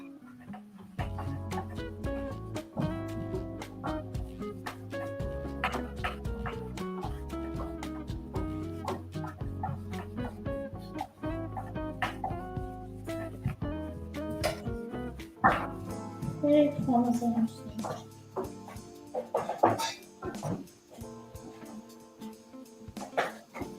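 Several dogs bark, yip and whimper indoors in a kitchen, with bursts of close, loud barking scattered throughout and people talking now and then.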